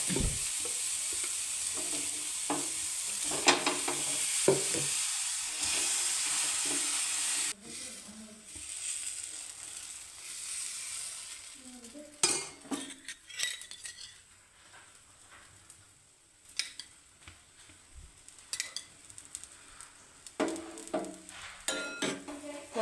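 Dosa batter sizzles and fries steadily on a hot griddle, with a loud hiss that drops away partway through, followed by intermittent scraping and clinks of a spatula against the pan.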